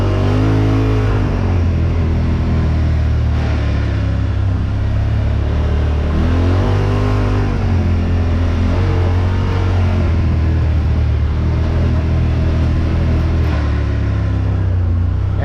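A 2024 Yamaha Wolverine X2 1000 side-by-side engine roars loudly while riding, rising and falling through throttle changes and engine braking with a constant deep rumble close by, no talk over it.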